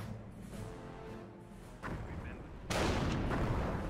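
Gunfire and artillery from the Company of Heroes video game, Eastern Front setting, rumble through the scene, with a loud heavy blast near the end over faint soldier voices.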